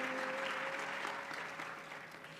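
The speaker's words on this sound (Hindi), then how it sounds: "ताली तो बजा रहे हो" An audience at a Hindu devotional katha gathering claps steadily, a dense even patter at moderate distance that fades slightly toward the end, with a faint sustained tone underneath.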